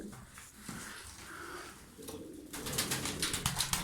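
Tumbler pigeons coo softly close by, low rounded calls under scuffling and fluttering noises that grow busier toward the end.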